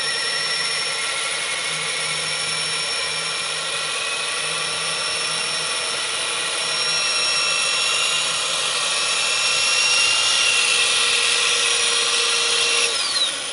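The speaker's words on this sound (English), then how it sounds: "See how the top propeller's spinning way faster than the bottom?" Small coaxial toy helicopter with its propellers spinning, a steady high-pitched whirring drone held close and continuous, rising slightly in loudness toward the end with no talking.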